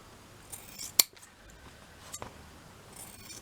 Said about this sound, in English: Cut this first. Don't cut your thread.